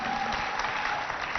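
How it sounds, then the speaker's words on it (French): A school audience applauds loudly for the George Washington team at a handwashing exercise, with steady, dense clapping filling the whole short moment. "On applaudit bien fort pour George Washington."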